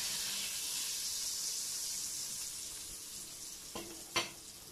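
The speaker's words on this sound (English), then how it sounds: "now I'm flavoring the oil and butter mixture" A single bay leaf sizzles in a hot oil and butter mixture, a steady soft frying hiss at moderate distance, ending with two sharp utensil knocks; no voices.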